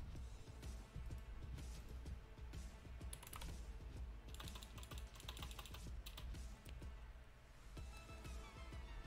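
Computer keyboard typing while writing Java class code, a quiet rapid stream of key clicks with short pauses, close to the microphone.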